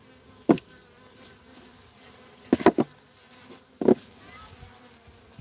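Honey bees at an opened hive during a beekeeping visit, heard in a few short close buzzing bursts as individual bees fly past, with a quieter background in between.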